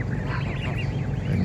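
Geese honking at a California lake, a steady chorus of overlapping honks and quacks close by for a brief moment, with no talk.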